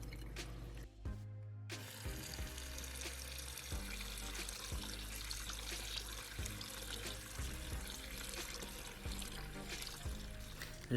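Cooking water from fish is poured out and the pot rinsed under a running tap, giving a steady rushing flow of water into a sink with small clunks of the pot.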